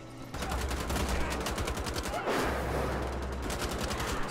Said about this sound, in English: See, you guys are shooting at me.